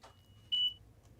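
An electronic beep sounds from a train control desk in Train Sim World 2020, on a Long Island Rail Road M7 unit: a single clear, steady tone lasting about a quarter second over a quiet background.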